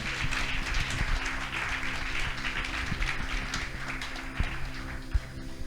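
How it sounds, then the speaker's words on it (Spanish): A church congregation at a Sunday service gives a steady round of applause for the Lord, continuous clapping with a few sharp claps standing out toward the end. "Denle un aplauso al Señor"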